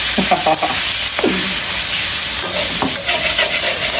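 Pork goes into a hot pan and is stir-fried, a loud continuous sizzle and hiss close by with intermittent scraping and stirring strokes.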